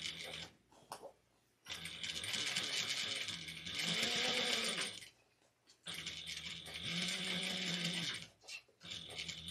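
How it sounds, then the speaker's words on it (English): Sewing machine stitching quilt fabric pieces together with a quarter-inch seam, running in two long bursts with short pauses between, fairly close and steady, with a faint low whir. "We're going to sew everything together using a 1/4 of an inch seam allowance."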